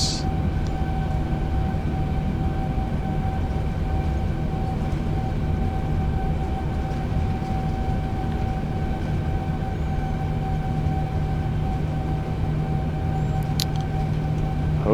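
Boeing 787 jet engines roar steadily at takeoff thrust in Microsoft Flight Simulator, a loud even rumble with sustained tonal whines and no letup.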